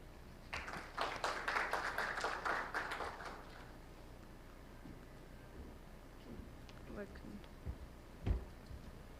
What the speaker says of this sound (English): please welcome with a big round of applause, Ms. Sarita Behel, Independent Director.